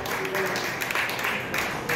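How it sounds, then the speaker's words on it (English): A comedy club audience claps during a stand-up set, a steady wash of applause lasting the whole moment under a voice. "Clap it up if you're in a couple."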